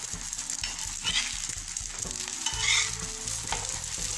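A layered soft coin parotta frying on an oiled pan just after being flipped, a constant close sizzle broken by soft rhythmic taps and scrapes of a spatula, with no voices.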